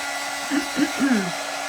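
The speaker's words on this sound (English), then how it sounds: "This dryer drives me crazy." Loud hair dryer running with a constant, dense whoosh and a steady whine, and a few faint words spoken underneath.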